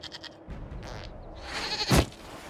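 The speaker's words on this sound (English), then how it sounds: "We discovered this man attacking the building with a goat." Goat bleating in the video game Dragon Age: Inquisition, a couple of wavering bleats building to one louder, harsher cry near the end, heard alone.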